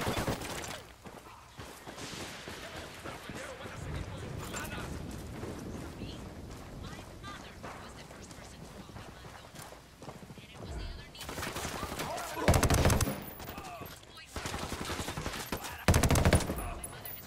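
Game gunfire in Ghost Recon Wildlands: bursts of rapid automatic shots and single heavy cracks, some loud and close, mixed with wind noise while voices talk over the action.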